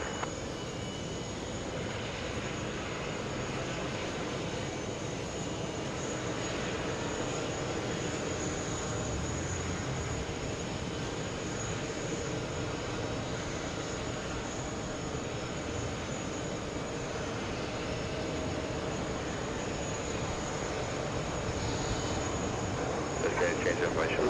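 Steady roar of jet airliner engines near a runway at JFK airport, where A330-300 heavies arrive, a broad continuous rumble holding through the whole stretch with a slight swell at the end.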